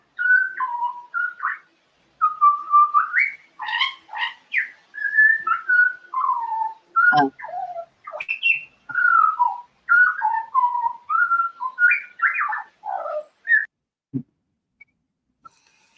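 Rich, flute-like song of an Australian butcherbird with many changing whistled notes, delivered in quick phrases with brief gaps, near and clear, ending with a couple of soft taps.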